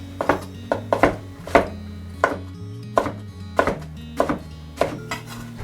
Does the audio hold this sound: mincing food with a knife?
yes